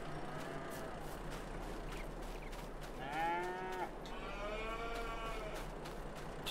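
Cattle lowing on a farm in the Landwirtschafts-Simulator 22 video game, several drawn-out moos rising one after another over a steady low ambient hum, with no voices.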